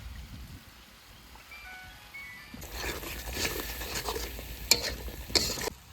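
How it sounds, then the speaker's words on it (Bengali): Ground cumin and coriander being stirred and fried in a hot pan, a soft sizzle that swells into a busier crackle with scraping strokes, fairly quiet and close. "এবার দেবো জিরে আর ধনের গুঁড়িটা"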